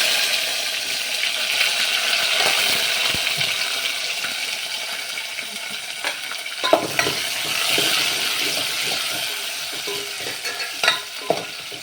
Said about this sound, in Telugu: దీంట్లో కొంచెం నూనె వేడైంది కదా, దీంట్లో కొంచెం జీలకర్ర వేస్తాను